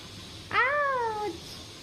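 A cat gives a single clear, drawn-out meow close by, rising then falling over about a second in an otherwise quiet room.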